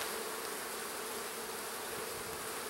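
Honey bees buzzing around an open hive while honey supers are added, a dense continuous hum of many insects, steady and close with no pauses.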